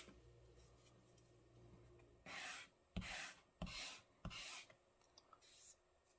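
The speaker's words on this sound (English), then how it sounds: "Then we'll sand the edges," Sandpaper rubs along the edges of model rocket fins in a few short, close, raspy strokes separated by pauses, after a quiet stretch at the start; no talking.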